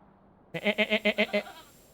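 A person imitates a goat's bleat with a single wavering, pulsing vocal call of about six quick throaty beats, close and clear against a quiet background during video game play.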